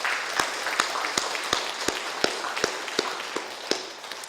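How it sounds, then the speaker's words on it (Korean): A church congregation claps in encouragement for a standing elder, with sharp, regular rhythmic claps landing roughly every 0.4 seconds over a lighter bed of scattered clapping. "우리 격려의 박수 한번 치고 싶습니다"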